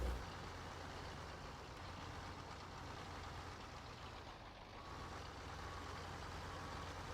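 A truck and trailer engine in Farming Simulator 15 idles with a steady, faint low drone that holds evenly throughout, with no voices over it.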